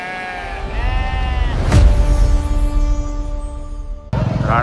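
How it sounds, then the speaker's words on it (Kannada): Sheep bleating at the Ranebennur sheep market, a loud close drawn-out bleat followed by another starting near the end, over a low crowd murmur. "ರಾಣೆಬೆನ್ನೂರು ಕುರಿ ಮಾರ್ಕೆಟಿಗೆ ಬಂದೀವಿ ನೋಡ್ರಿ ಇವತ್ತು."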